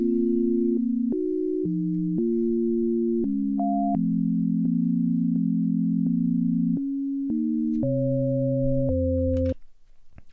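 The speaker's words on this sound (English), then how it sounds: "We're really just working with a sine wave right now in this chord progression" Pure synthesized sine tones play a slow chord progression, each chord held steady for about a second before shifting to the next, clean and loud with no other sounds or voices.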